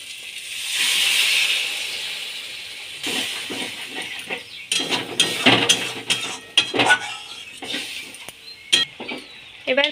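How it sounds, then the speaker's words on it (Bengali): Water is poured into a hot pan of cooking paneer with potatoes, making a steady sizzling hiss at first, followed by irregular clattering and scraping in the pan. "এবার আমি ওর মধ্যে আলুটা সেদ্ধ হওয়ার মতো জল দিয়ে দেব।"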